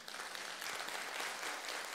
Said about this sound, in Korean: 이럴 때는 박수를 한번 쳐주셔야 돼요.